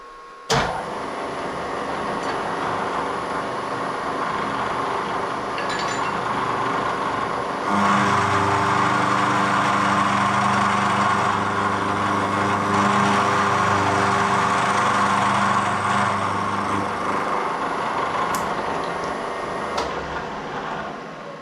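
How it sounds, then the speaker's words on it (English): A milling machine spins a solid carbide cutter at high speed while making telescopic bicycle seat stays. The motor whine is steady and close, and it grows louder with a deeper tone partway through, as if the cutter engages the workpiece. "a carbide cutter, solid carbide cutter, so the speed is quite high."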